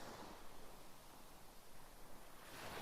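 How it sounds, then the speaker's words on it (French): Gentle ocean waves wash in as a soft, steady surf hiss, faint and continuous, with no voices over it. "au doux son des vagues"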